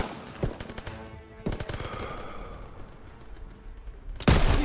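Machine guns open up in a Call of Duty WW2 battle, with sharp bursts of automatic fire near the start and a heavier close volley at the end, separated by a rumbling mid-distance battlefield wash.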